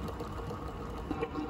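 A Teddy Varimixer stand mixer whisks egg whites for macarons, giving a steady, close motor whir that holds an even level throughout.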